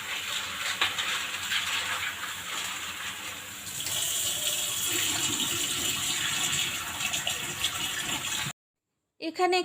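Tap water runs steadily at close range to soak dried peas in a home kitchen, a continuous splashing flow that gets fuller midway, then cuts off abruptly with a few brief clatters after.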